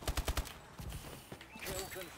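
Rapid bursts of automatic gunfire from a gun in the video game Advanced Warfare during online multiplayer, four quick sharp shots followed by scattered softer reports and clatter, close and loud.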